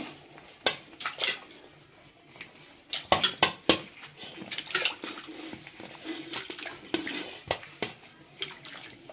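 Skin-on potato slices for homemade chips drop into a vessel of water, making irregular close-up splashes and clinks against the pot. The bursts come one after another with brief pauses between them.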